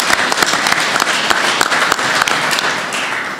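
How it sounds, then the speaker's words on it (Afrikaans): Applause from an audience at an agricultural congress, acknowledging two schools, a dense steady wash of many hands clapping with sharp individual claps throughout, loud and sustained without a break. "ek dink hulle verdien nog 'n ander klap"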